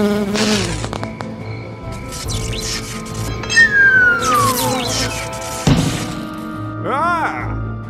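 Cartoon bee buzzing in a city scene, a thin whining drone that swoops and dips in pitch among thumps and chirpy effects, fairly loud, with voices talking around it.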